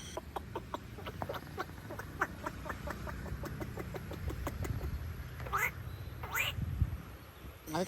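A man imitates bird calls with his voice at an old temple in Konkan: a series of short, evenly spaced whistled chirps and squawks over a crowd murmur, ending in a couple of rising trills.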